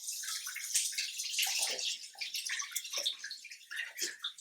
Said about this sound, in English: I'm going to rinse my hands off again.